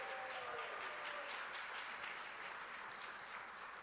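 Audience applause at the OSAAT Gala following a music performance, a steady wash of many hands clapping at a distance, fairly quiet and even throughout with no voices over it.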